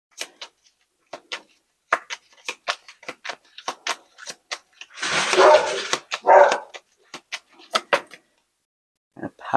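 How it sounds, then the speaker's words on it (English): A dog barks nearby in a couple of loud, rough bursts in the middle, set among a steady run of sharp ticking clicks, with no talking over it. "Apologies for the dog barking."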